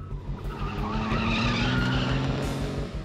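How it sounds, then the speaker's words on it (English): White pickup truck racing at extreme speed during a police chase, its engine roaring steadily with tire squeal and skidding throughout, loud and close with no voices. "The police are trying to stop a white pickup truck that is traveling at an extremely high rate of speed."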